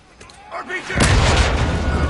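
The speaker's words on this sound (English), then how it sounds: "RPG!" An RPG rocket explosion in the Modern Warfare 2 video game, a loud, close boom that builds into a sustained rumbling blast, with a voice shouting just before.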